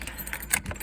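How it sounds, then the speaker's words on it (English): Car key pushed into the ignition of a 1986 Mercury Capri, a close, brief metallic jangle and click lasting under a second, with no talk. "Just put the key in the ignition."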